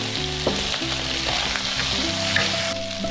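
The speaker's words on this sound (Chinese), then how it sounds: "接着把牛腩放下来炒香，" Beef brisket stir-frying in a wok with ginger and garlic makes a loud, continuous sizzle, with occasional spatula taps and scrapes as it is tossed.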